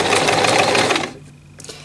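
A sewing machine stitches a buttonhole in a fast, steady needle rattle for about a second, then stops, leaving a quiet pause before a brief mechanical click near the end.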